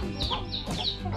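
Chickens cluck in quick, overlapping bursts close by, a busy flock calling repeatedly while being fed noodles, over a low background hum.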